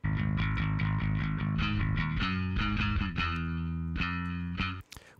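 Dry electric bass guitar with the room reverb switched off, playing a punchy, repeated riff of plucked notes, loud and close, stopping abruptly just before the end.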